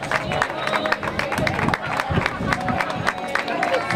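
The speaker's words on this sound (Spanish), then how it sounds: "Fuerte el aplauso para todos ellos" Steady applause from a crowd at an open-water swimming race awards ceremony, dense clapping with some cheering mixed in, sustained throughout at a moderate distance.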